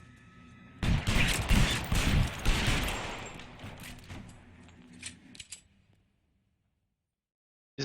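Gunfire in the crime game L.A. Noire, a dense, loud fusillade of rapid shots for several seconds, then thinning to a few scattered bursts before silence.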